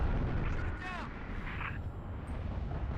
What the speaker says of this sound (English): I think they're just shooting at me.